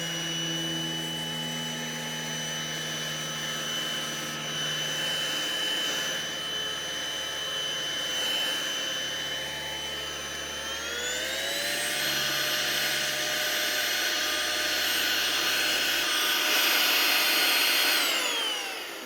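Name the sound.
blower cleaning a raised garden bed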